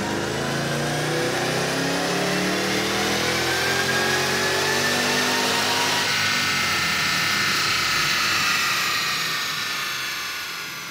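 A powerful supercharged 4.6-liter V8 engine roars on a chassis dyno at sustained high revs under load, then its pitch shifts and the sound eases slightly near the end.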